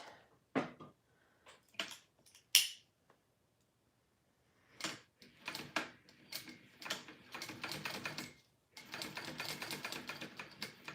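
A sewing machine stitches a Delmar Wristlet in short bursts, then in longer runs of rapid needle clatter with brief pauses between them. It is close and clear, with no talking.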